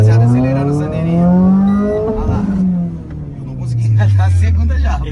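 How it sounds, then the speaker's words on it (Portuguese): A modified Renault Sandero RS, a rough-edged tuned hatchback in Sport mode, revs up loudly, its engine note rising, dipping briefly at a gear change and climbing again, close and dominant. "Vamos lá, rapaziada, acelerando o Sandeirinho."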